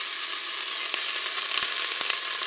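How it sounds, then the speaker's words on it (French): Onion pieces hit hot oil in a Cookeo pot and sizzle steadily, a bright continuous crackle with a few sharp pops and stirring taps. "je vais mettre mes morceaux d'oignon."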